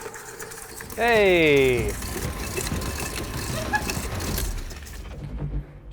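An electric mixer churns chocolate chip cookie dough with a continuous rattling whir. A voice calls out briefly near the start.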